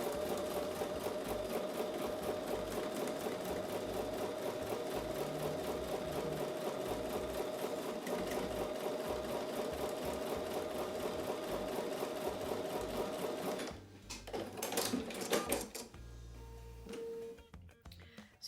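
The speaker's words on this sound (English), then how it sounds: "So we're going to take those to sewing machine and sew with a 1/4 inch seam." A sewing machine stitching quilt pieces with a quarter-inch seam, a rapid, steady mechanical chatter close up that runs continuously, then stops abruptly near the end, followed by a few soft handling clunks.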